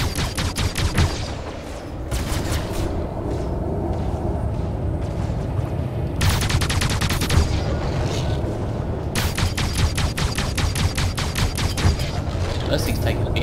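Spaceship guns firing at pirate ships in Star Citizen, dense loud volleys of rapid shots in repeated bursts over a constant heavy engine rumble, with separate crackling barrages breaking in and out.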